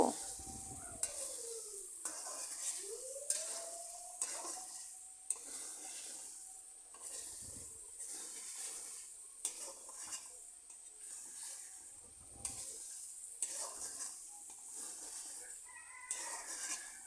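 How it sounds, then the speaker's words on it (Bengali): Eggs stirred and fried with spices in a pan for an egg curry: a steady sizzle under repeated scraping strokes of a utensil against the pan, with occasional clinks, close by and without talk. "ডিমগুলোকে আমি মশলার সাথে ভালো করে কিছুক্ষণ কিছুক্ষণ বেজে নেব"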